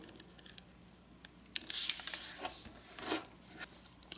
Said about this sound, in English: take one of your sheets and white side up, let's fold in half